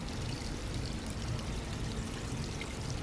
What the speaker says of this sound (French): je vais prendre une petite douche